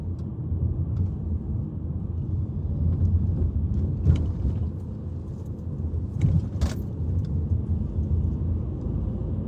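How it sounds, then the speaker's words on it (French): A powerful taxi car rumbles past on a street, a steady, moderately loud engine and road roar with a few sharp clicks and rattles mixed in, no voices. "Le taximan là, il file. Ce sont des voitures puissantes."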